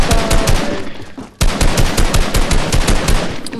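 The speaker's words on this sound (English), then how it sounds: "Get the guns and light it up." Video game guns fire rapidly at a UFO, dense loud automatic bursts with a brief gap near the middle.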